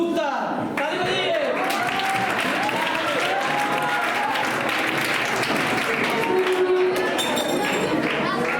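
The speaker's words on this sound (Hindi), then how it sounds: "ताली बजाइए।" A crowd at a school results celebration applauds steadily for several seconds, bright dense clapping filling the room, with a voice speaking over it.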